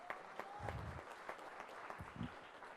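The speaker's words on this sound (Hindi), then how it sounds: "जोरदार तालियां एक बार" Audience applause at a creators summit event, a steady patter of clapping that sits fairly soft and a little distant, running throughout with faint crowd murmur beneath.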